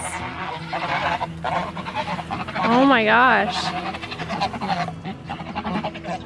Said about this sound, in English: The goats think that they're getting food, but it's actually the loud geese.